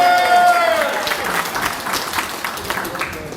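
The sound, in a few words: audience applause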